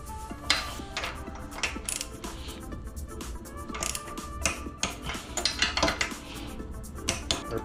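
Metal wrench work while torquing down a Honda GX160 cylinder head onto a Predator 212 engine: close, busy ratcheting clicks and clinking of metal tools and parts, with sharper taps scattered through steady mechanical rattle.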